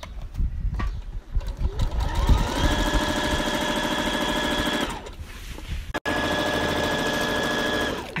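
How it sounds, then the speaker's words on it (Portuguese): A sewing machine stitching fabric for a children's pillowcase, a loud steady whirring run that slows, pauses briefly with a click, then resumes, with soft handling noise at the start. "Então agora a gente já faz com o pezinho da máquina"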